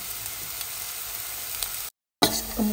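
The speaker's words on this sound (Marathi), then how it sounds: "वो कांदो बारीक चिरून घेतला तो तळसून घेवपाचो." Chopped onion frying in oil for a Goan mackerel uddamethi curry gives a steady soft sizzle with faint stirring clicks. There is a brief dead-silent gap near the end, and then a slightly louder burst of crackle.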